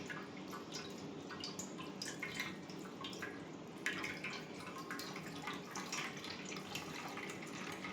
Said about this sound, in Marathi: तर असं याला फिरवत राहा गोल राऊंडमध्ये आणि सगळं पाणी खाली गळेल